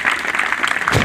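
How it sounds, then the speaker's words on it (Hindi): Applause from a school audience in a Hindi-speaking gathering, a short dense burst of clapping sustained at steady loudness throughout. "जोरदार तालियां।"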